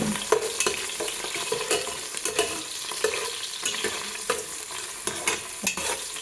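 Garlic frying in a pan, a continuous close crackling sizzle punctuated by regular light scrapes and taps of stirring.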